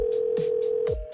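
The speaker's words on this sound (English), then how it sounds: "Let me make a quick phone call here." A telephone dial tone hums steadily while a call is placed, interrupted by short dialing beeps and ending as the line cuts off, close and clear with no talking.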